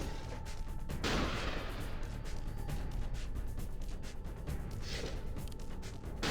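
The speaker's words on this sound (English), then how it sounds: "We just shoot the ones that we need to shoot." Dense, continuous bursts of gunfire in a stationary shooting video game, loud and steady throughout, with sharper cracks standing out over a constant rumbling mix.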